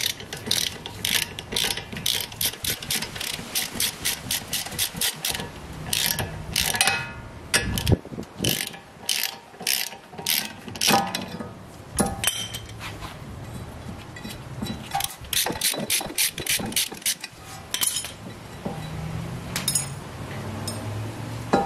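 A hand ratchet turns a 12mm screw on a Mazda brake drum, giving rapid, close clicking runs in repeated bursts separated by brief pauses.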